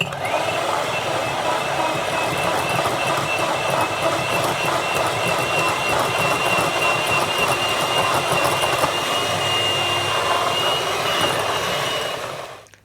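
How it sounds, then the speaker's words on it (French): An electric hand mixer whips egg whites with a pinch of salt for tiramisu, a loud continuous whirring drone with rattling beaters that runs unbroken for several seconds before cutting off at the end. "pour pouvoir monter mes blancs en neige facilement, je vais ajouter une petite pincée de sel, ça va me rendre la vie beaucoup plus simple, et je vais utiliser mon batteur électrique"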